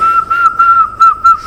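A person whistles a steady single-pitched tone in short repeated bursts, loud and close, with brief gaps between the notes and no talking.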